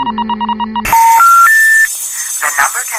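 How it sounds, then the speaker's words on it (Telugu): A phone call is dialed, a quick run of keypad beeps followed by a rising three-note tone sequence and crackly line noise, all loud and close. "ఒకసారి ఫోన్ చేసి చూద్దాం."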